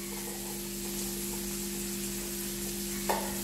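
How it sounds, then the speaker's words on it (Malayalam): Green chilli, ginger and garlic sauté in a hot pan with a steady close sizzle and a light scrape of stirring, over a constant low hum. "എന്നിട്ട് ഇതിനെ നമുക്കൊന്ന് വഴറ്റിയെടുക്കാം"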